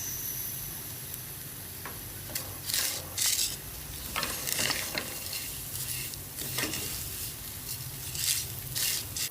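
Vermicelli frying in a pan over low heat, a steady crackling sizzle broken by repeated scraping and stirring strokes against the pan, close and fairly loud.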